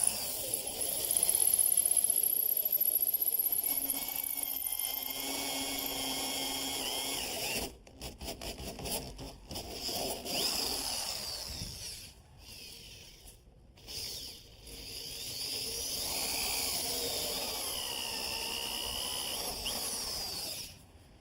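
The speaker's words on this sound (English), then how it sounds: "I'm going to drill it from the other side so we don't damage the wood" A power drill bores through a wooden door, its motor whining steadily up close for long stretches, pausing briefly and restarting in bursts with short gaps in between.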